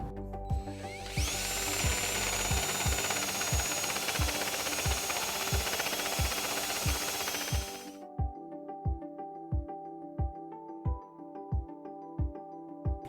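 A power drill with a step bit widens a hole in a 2018 Jeep Wrangler baseplate for flange nuts, whining loudly for several seconds over a steady rhythmic ticking, then stopping while the regular clicks continue.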